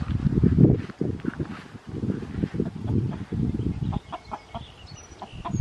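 A hen clucking near the coop, with repeated close, fairly soft clucks in an uneven rhythm and a few light footstep-like shuffles, with no talk over it.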